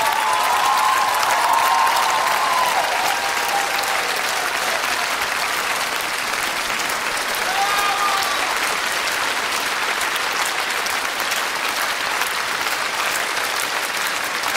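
A television ballroom audience at Dancing With The Stars Russia applauds the dance couple, a steady, loud wash of clapping that lasts the whole stretch with no pauses.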